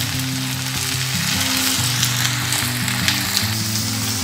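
Ginger garlic paste being stirred into sizzling onions in a pan for a spicy Bangladeshi chicken curry, a loud continuous fry hiss over a low, steady droning hum, close by.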